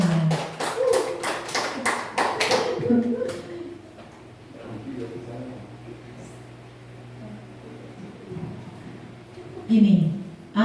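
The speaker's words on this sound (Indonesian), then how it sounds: "Tepuk tangan buat kita semuanya." A school audience of teachers breaks into a burst of clapping, many hands applauding together loudly for a few seconds before it fades into room noise and talk.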